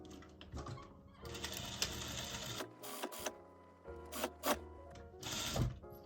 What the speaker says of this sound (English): Sewing down this side, be careful not to catch the other side of the seam allowance when you stitch this down.